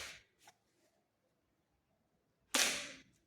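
An air rifle barrel snaps shut with one sharp, close metallic clack, preceded by faint small clicks from handling the gun.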